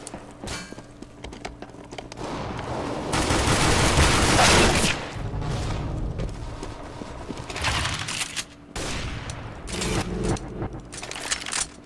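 Gunfire in Counter-Strike Global Offensive, with repeated rapid bursts and a dense sustained volley in the middle; loud and close, with no talk over it.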